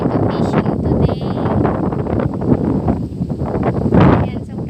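Gusty wind blows across a lake on a fishing outing, buffeting the microphone with loud, rough, uneven rumbles, while a voice talks over it.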